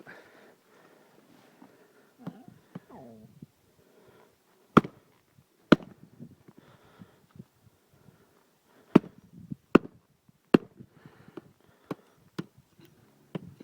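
An axe chops branches outdoors in sharp, isolated cracks spaced irregularly across several seconds, with quieter rustling and scraping between strikes.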